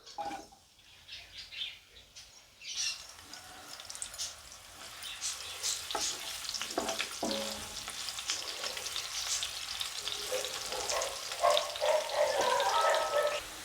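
Onion and green chilli fry in a pan with three tablespoons of hot oil, the sizzle starting quiet and swelling into a loud, continuous crackle with occasional stirring.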